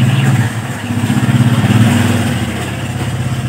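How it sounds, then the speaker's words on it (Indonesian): A motorcycle passing by nearby, a loud mid-pitched engine drone with a pulsing throb that swells and then eases slightly as it moves past. "Ada motor lewat."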